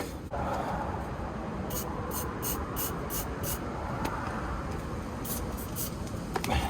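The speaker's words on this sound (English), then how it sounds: "this is the only spray paint I have" A steady aerosol spray paint can hisses continuously at close range, with a few faint clicks and rattles over the top.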